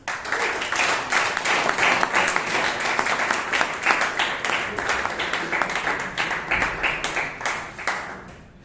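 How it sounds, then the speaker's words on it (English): At a Bangalore Toastmasters meeting, the audience applauds Toastmaster SriSakthi with vigorous, sustained clapping that holds strong for several seconds before thinning out at the close. "give a thunderous round of applause for Toastmaster SriSakthi"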